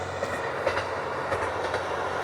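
A single-car train rolls through a Japanese farming village, a steady rumbling roar with faint rail clatter, close and continuous.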